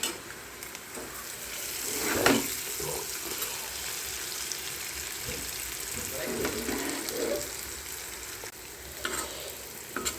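Chicken and potato fry in hot oil over a low flame with a steady, bubbling sizzle and crackle, moderately loud, plus a few soft clinks now and then.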